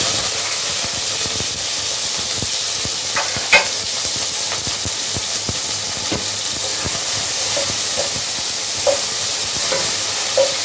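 Onions hit hot oil in a pot, giving a steady broadband sizzle and hiss with occasional stirring clicks and pops, close and continuous, with no talking.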